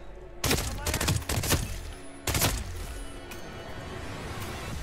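Assault rifle gunfire in the video game Hitman Freelancer: several sharp close bursts of shots in quick succession, loud and punchy, followed by a lingering room tail and background game ambience.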